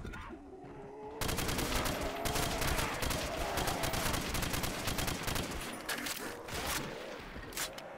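Rapid G36 rifle fire in the Custom Zombies game, dense automatic bursts that start abruptly after a quiet second and continue loudly and steadily to the end, with brief flurries of crackling shots.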